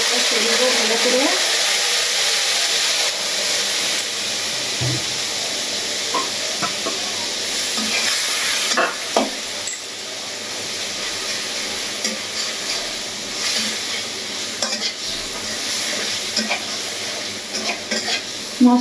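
Spice paste with turmeric and chili powder fries and is stirred in a pan, a close, continuous sizzle with spatula scrapes and stirring knocks, while a voice talks intermittently over the cooking.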